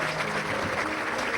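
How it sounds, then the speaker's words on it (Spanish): Applause from a crowd at a formal inauguration ceremony as a Mexican president enters, a dense, steady wash of clapping at moderate level with no break. "Es recibido también con aplausos"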